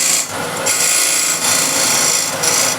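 A skew chisel shaves wood turning on a lathe, a steady continuous rasping cut that holds close and loud, with two short dips where the tool briefly lifts off the spinning workpiece.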